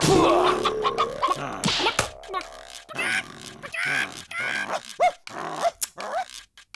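A dog growls and gives rough, gruff barks in an animated story scene, short harsh bursts and snarls mixed with voices talking and a few slap-like hits, close and fairly loud.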